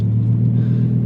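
Lamborghini Huracan Tecnica engine in sport mode with valves open, giving a steady, loud low rumble that holds throughout without a sharp rise, heard alone.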